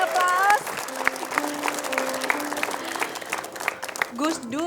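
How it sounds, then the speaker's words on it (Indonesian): A studio audience at an Indonesian television talk show breaks into sustained applause, steady clapping that carries on for several seconds with a few voices and tones mixed in. "Boleh kasih aplaus"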